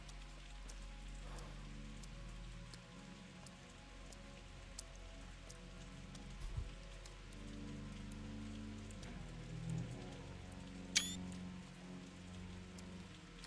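Heavy pouring rain in the video game Pathologic 2, a steady unbroken wash of rainfall across the whole stretch with a few faint thuds and a brief sharp sound near the end, no voices.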